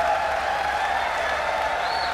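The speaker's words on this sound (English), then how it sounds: "And the crowd is applauding at this point." A large crowd at the CitizenCon keynote applauds in a steady, distant wash of clapping that continues through the whole stretch.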